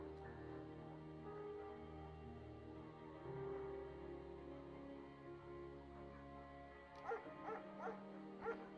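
A shepherd dog in the Firewatch video game gives several quick, fairly clear barks near the end, following a long stretch of soft, sustained background music.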